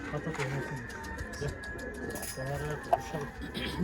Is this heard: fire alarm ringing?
no